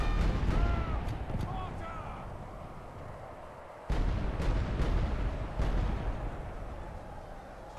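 Mortar artillery fires in the strategy game Medieval 2 Call of Warhammer, heard as several booming blasts and crackling impacts amid battle noise, with bird caws early on and someone talking over it.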